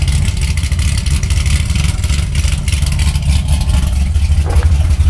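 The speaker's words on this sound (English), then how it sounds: "Let's hear that V8." A 570-horsepower Chevrolet Corvette Z06 with its LS7 V8 running, a loud, steady, close-up engine rumble with a deep low-end throb that holds throughout, no talking over it.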